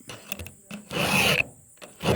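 A file rasps across chainsaw chain teeth during sharpening, with short scrapes followed by one longer, louder stroke, close up with no talk.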